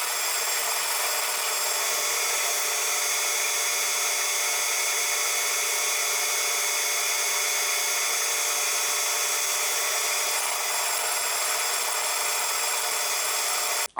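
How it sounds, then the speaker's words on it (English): A drill bores a deep hole into the steel tailstock of a Celtic 14 lathe being restored, giving a steady, unbroken high grinding whine that holds level throughout before cutting off abruptly at the very end. "So now I can drill the hole in here as deep as possible."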